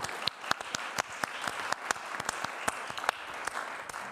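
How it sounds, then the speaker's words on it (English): An audience applauds at a panel discussion on funding a digital future at the DigHum2025 event, a steady spread of crisp overlapping claps held at an even level for a few seconds. "A little bit of an applause."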